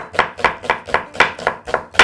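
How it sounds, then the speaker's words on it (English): A knife chops an onion into thin half-moon slices on a board, eight crisp, evenly spaced cuts in a steady rhythm, close and clear with no talking. "So we'll begin the process by chopping up that into some half moon shapes."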